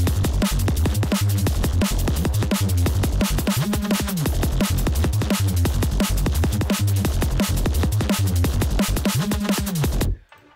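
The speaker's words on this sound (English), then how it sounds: "and together with the drums it sounds like this." A loud, dense mix where a gritty Reese bass from the Serum synth rolls and wobbles under fast, driving electronic drums for about ten seconds before cutting off sharply.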